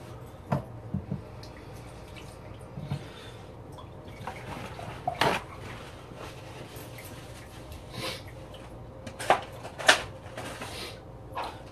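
Tap water splashing in short, uneven bursts as hands are rinsed at a kitchen sink while making coconut shrimp, quiet, with a few drip-like spatters and no talking.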